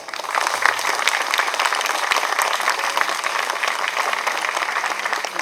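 Audience applause at a contemporary art exhibition of Macau's six religions, a sustained dense wash of clapping from a sizeable crowd welcoming guests, steady and fairly loud throughout.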